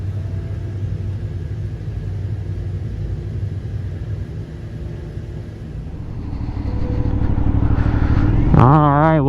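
A 2018 Aprilia Shiver 900 motorcycle runs on a dynamometer, a loud steady engine rumble that swells over the last few seconds into a rising rev, with no voices over it.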